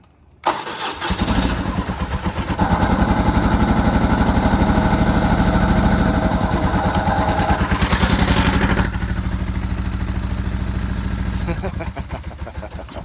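A motorcycle engine that has sat cold since the day before cranks and catches, then runs loud and close at a fast, slightly uneven idle that eases down partway through.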